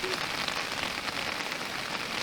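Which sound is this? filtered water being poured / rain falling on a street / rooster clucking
rain falling on a street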